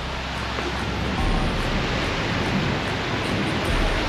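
Baltic Sea waves washing onto the shore, a dense continuous roar of surf heard close up and loud, with no voices.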